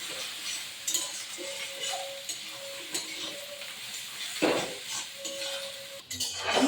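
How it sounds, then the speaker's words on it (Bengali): Fish roe frying with spices and cumin powder, stirred in a pan: soft sizzling under repeated scraping and clinking of a spatula against the pan, with a few sharper knocks, close and moderately quiet. "মশলা ডিমে ভালো করে ভেজে নিয়েছি"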